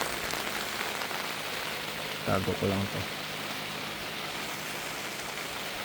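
Steady rain falls around a campsite at Longview Bar and Cafe in Bayo Grande, a continuous soft wash of drops on surfaces with a brief burst of voices partway through.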